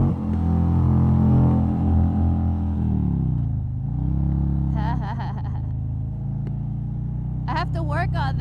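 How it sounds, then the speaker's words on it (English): A motorcycle engine revving while riding through a tunnel, loud low rumbling rising and falling in pitch, with brief bursts of speech over it. "It's fun to go through tunnels and rev your engine."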